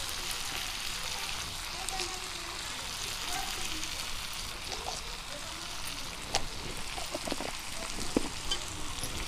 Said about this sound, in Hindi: तो नमक को हम अच्छे से मिला देते हैं।